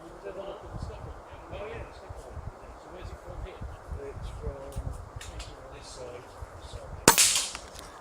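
A Weihrauch HW110 air rifle fires a single sharp crack at a peacock target up a tree during a night field target shoot, coming after quiet outdoor ambience with soft background voices and insect-like buzz.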